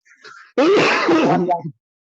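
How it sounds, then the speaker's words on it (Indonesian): One person gives a single harsh, throaty cough or throat clearing, loud and close, after a faint breathy sound. "Batuk ya."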